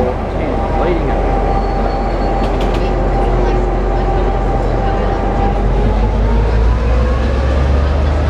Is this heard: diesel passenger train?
yes